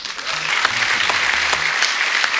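Steady, dense studio audience applause on a comedy talk show, continuous and fairly loud throughout with a faint voice tone underneath.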